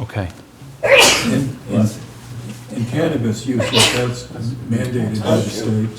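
A single sharp sneeze bursts out in a meeting room, cutting across ongoing speech, with another person's voice continuing around it.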